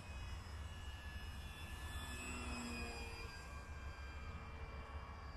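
Electric motor of a Durafly Tundra V2 RC airplane flying low passes with flaps deployed, a steady distant droning whine with a faint gliding pitch shift, continuous for about five seconds with no talking.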